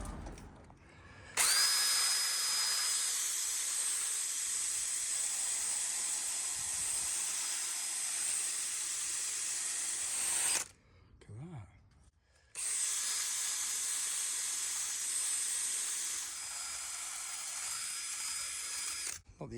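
Lubricant sprayed into a door lock before a new cylinder is fitted: two long, close hissing bursts separated by a short pause, with faint handling noise between them.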